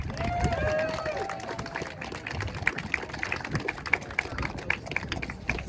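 Outdoor crowd at a rally on Parliament Hill breaks into applause, with steady rhythmic claps and scattered cheers and whistles spread across the gathering, mixed with crowd noise and a voice speaking.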